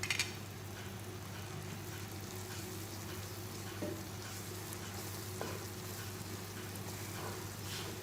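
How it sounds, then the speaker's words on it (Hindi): Chopped almonds and pistachios in a thickening milk mixture are stirred in a pan on the stove, giving a soft, faint sizzle with occasional light scrapes under a steady low hum. "और इसको हम अच्छी तरह से मिक्स करेंगे।"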